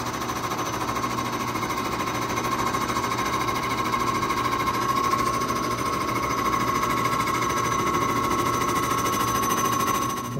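A milling machine cuts a turbine housing, producing a steady, loud mechanical whir and grinding chatter with a sustained tone that runs unbroken for about ten seconds, then cuts off at the end.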